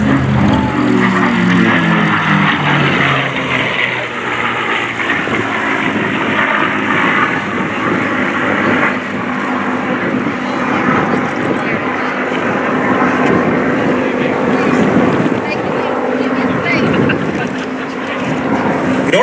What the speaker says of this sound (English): Let's just watch and listen and absorb the sights and sound of one of the most iconic aircraft in the world, the North American P-51 Mustang.